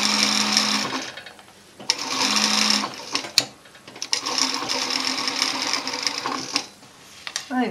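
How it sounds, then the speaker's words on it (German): Sewing machine stitching bias tape into a seam of a jacket, running in several steady bursts separated by short pauses, close and fairly loud with no talk. "Also nähe ich hier direkt in meiner Naht von dem Schrägband annähen."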